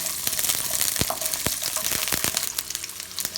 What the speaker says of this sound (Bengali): ফ্রাই প্যানটা গরম হলে রসুনের কোয়াগুলো সব দিয়ে দিব রসুনগুলো প্রথমে একটু ভাজি করব